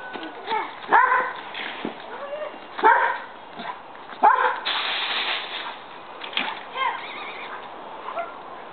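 A dog barks repeatedly in short bursts with whiny, yipping tones between them, fairly close, with faint background noise and no clear speech.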